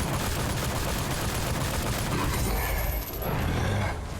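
Continuous gunfire in the Sker Ritual round-based zombie video game, a loud unbroken rattle of shots with a short drop in intensity before the firing resumes.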